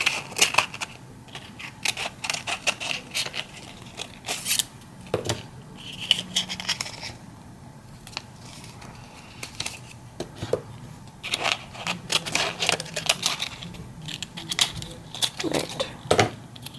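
Scissors snip through material to shape a cone for a pinecone gnome ornament, with repeated short crisp cuts and papery rustles that come in bursts and pauses at close range.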